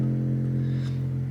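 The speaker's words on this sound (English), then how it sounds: "The 808, obviously." A sustained 808 bass drum booms low and steady throughout, a deep sub-heavy tone holding at constant loudness with a faint higher hiss on top.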